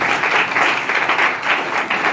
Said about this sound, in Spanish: Bien, aplausos, por favor.